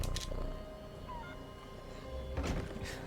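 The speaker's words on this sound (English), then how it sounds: "Moses has got a wonderful purr." Moses the cat purring close by, a soft continuous low rumble running through the whole stretch, with a couple of brief thumps and faint background sounds over it.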